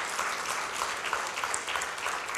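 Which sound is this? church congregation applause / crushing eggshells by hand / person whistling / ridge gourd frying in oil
church congregation applause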